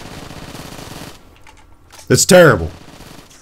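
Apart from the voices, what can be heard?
AK rifle gunfire in a video game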